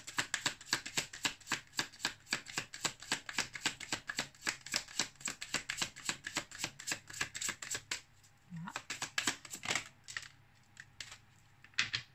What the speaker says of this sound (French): on va prendre une carte de mes petites prières aux anges pour faire le plein d'amour